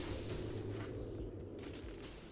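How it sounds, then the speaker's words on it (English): Cannon fire in Command & Conquer: Generals Zero Hour, a dense, rumbling burst of booming artillery layered over continuous battlefield noise, loud and sustained throughout. "And I do hear a new cannon."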